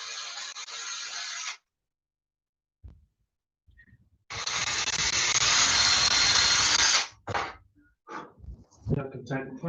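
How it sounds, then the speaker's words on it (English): A power drill drives screws into wood during railway building: two sustained whirring bursts, the second and longer one lasting about three seconds, separated by quiet, then followed by scattered short knocks and handling noises. "Just put a couple of screws in to hold it in place."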